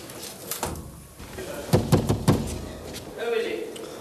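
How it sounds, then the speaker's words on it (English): Four sharp, evenly spaced knocks on a door, close and fairly loud, land in a quick burst midway through an otherwise quiet indoor moment. "Ives, will you knock before you come in here?"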